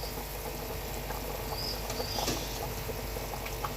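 A covered pot of water for rice pulao boils with a faint, steady bubbling and light patter, alone and continuous throughout.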